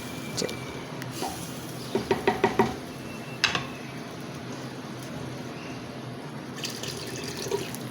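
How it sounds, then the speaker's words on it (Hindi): Water is poured into a pot of mutton and arbi, giving a short run of quick splashing drips followed by a single louder splash, then quiet room tone. "यहाँ पे अब मैं इसके अंदर पानी ऐड करूँगी"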